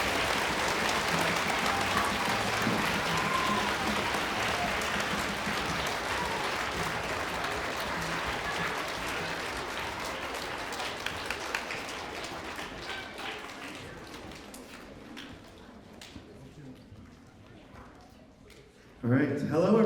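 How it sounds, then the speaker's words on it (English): An audience claps loudly and steadily to welcome the narrator and conductor onto the stage at a live concert performance of Peer Gynt. The applause gradually thins out toward the end, and a brief louder noise comes at the close. "will you help me start the concert by clapping your hands to bring out narrator Maria José Botelho and our conductor Anthony Ferreira"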